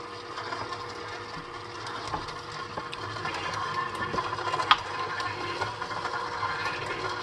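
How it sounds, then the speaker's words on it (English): Electric stand mixer running on low while mixing pumpkin cheesecake batter in a bowl, a steady mechanical whir with a faint rattle throughout, fairly quiet and alone. "you just want to take and turn your mixer on low."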